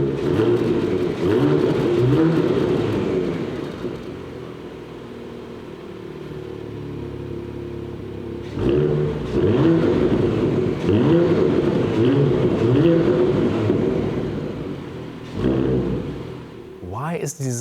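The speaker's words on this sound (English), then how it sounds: "And sports exhaust, you can see it here in black styling." A petrol Porsche Macan GTS sports exhaust with four pipes roars and revs in two long, loud bursts, with a brief rise and fall in engine pitch between them.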